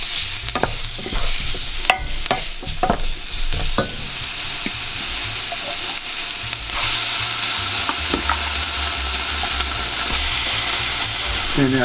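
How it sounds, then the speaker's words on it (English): Spices fry in a hot pan as a spoon stirs and knocks against it in quick irregular strokes early on, then the sizzle settles into a steady, louder hiss for the rest. "Let's just let those spices get some heat on them first."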